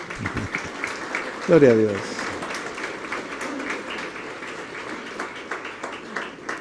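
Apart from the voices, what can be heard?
congregation applauding in church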